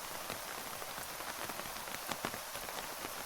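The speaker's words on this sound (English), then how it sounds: "And of course it's raining." Steady rain falls on surfaces in the Terminus zombie survival game, a close, even hiss dotted with sharper drop taps and no voices.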